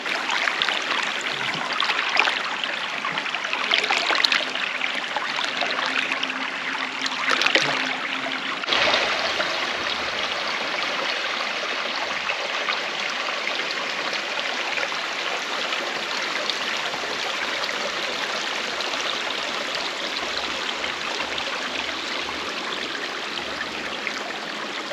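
A stream rushes along a hiking trail in the Grampians, a continuous broadband watery rush heard close and fairly loud. Brief light handling noises sit in the first part, with no talking.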